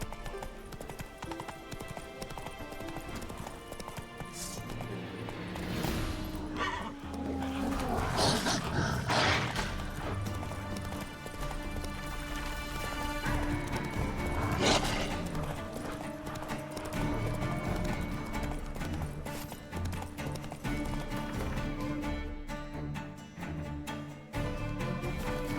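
The horse Roach gallops in The Witcher 3 on PS5, sending up a loud run of rapid hoofbeats with whinnies and neighs mixed in, over the game's music and ambience.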